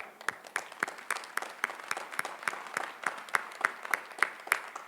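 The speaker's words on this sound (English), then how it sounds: "We applaud you." At a Northeastern University graduation ceremony, an audience applauds with sparse, distinct claps in a loose rhythm, moderately quiet and heard without talk.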